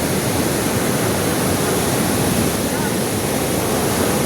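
Loud rushing water fills the clip, a dense continuous roar of fast current and churning waves with no pauses.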